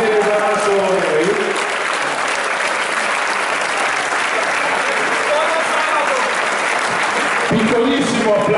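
Crowd applause at a Lega party festival in Martinengo, a dense, loud wash of clapping that holds steady for several seconds, with voices audible at the start and end.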